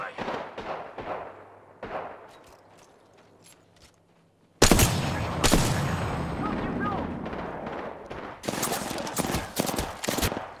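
Gunfire in an Apex Legends match: scattered single shots, then dense loud bursts of rapid fire after a brief lull, with faint talk underneath.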